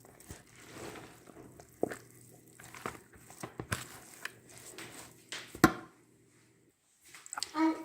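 A sliced vegetable salad of mixed summer vegetables cut into thin strips, with cucumber, eggplant and onion, is tossed and mixed by hand, giving soft irregular squishy rustles and occasional sharper clicks against the bowl, with a brief quiet pause near the end.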